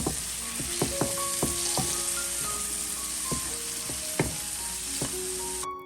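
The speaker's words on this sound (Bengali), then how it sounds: "এবার সব কিছুকে বেশ ভালোভাবে নেড়ে চেড়ে রান্না করে নিতে হবে যাতে মশলা থেকে কাঁচা গন্ধ চলে যায়" Spices with chopped small tomatoes fry in a pan over low to medium heat, a constant soft sizzle punctuated by sharp metallic clinks of a spoon stirring against the pan at irregular intervals.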